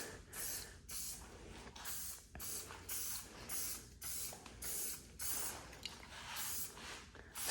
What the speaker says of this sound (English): we'll spray some of this SC1 high gloss coating